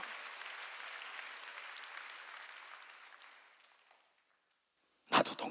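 A church congregation claps in sustained, dense applause that gradually fades out by around four seconds, followed by a brief silence and then a sudden loud burst near the end.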